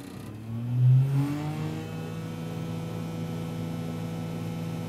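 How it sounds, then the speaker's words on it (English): Arva Industries MS260 scaler swinging its boom side to side at low idle, a steady mid-pitched engine drone with a brief rise near the start, then an even hum throughout with no talking. "I'm at low idle condition here, so it swings 70 degrees left and 70 degrees to the right."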